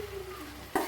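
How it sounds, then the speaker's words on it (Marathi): Sprouts vegetable curry with tomatoes and fresh coriander is stirred in a pan, a soft steady sizzle running under a short, louder scrape of the spoon near the end. "हलवून सगळ्याला मिक्स करूया"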